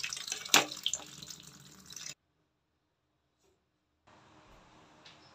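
A kitchen tap runs loudly while soursop is peeled under the water, then the splashing cuts off abruptly into near silence before a fainter, softer trickle resumes.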